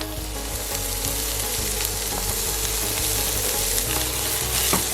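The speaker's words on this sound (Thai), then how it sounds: "เราจะเริ่มจากการผัดหอมและกระเทียมนะครับ" Shallots and garlic sizzle steadily in hot oil with a dense, continuous crackle and occasional stirring scrapes, close and fairly loud, with no voices.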